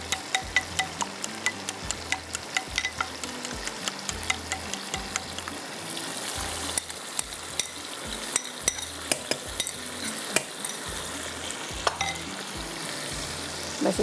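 Curry masala is stirred and fried in a pan for an egg paratha roll filling, with continuous sizzling and many quick, rhythmic spoon clicks and scrapes against the metal, heard close and without speech.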